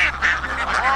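Ducks quacking and honking on an open-field duck farm, a few loud close calls overlapping in a short burst with little else around them.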